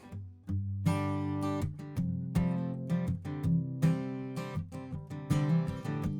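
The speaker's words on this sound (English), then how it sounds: "That's on the bouzouki and the acoustic guitar," An acoustic guitar strums chords in a steady rhythm, full and warm with crisp attacks, played up close with no talking.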